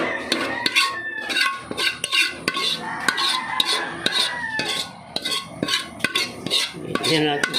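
Cooked ground meat gets stirred together with egg for a torta, a utensil clacking and scraping repeatedly against a pan in a quick, uneven rhythm, close and fairly loud.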